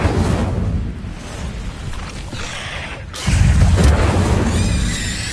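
In Hogwarts Legacy, casting the Incendio fire spell gives a whooshing burst of flame with a deep rumbling boom. A second louder rush of fire swells partway through and then fades, with no talking.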